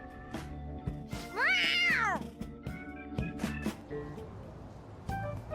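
A cat meows loudly and clearly in a single drawn-out rising and falling call. Animated speech and background sounds are heard briefly before and after it.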